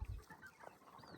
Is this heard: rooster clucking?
yes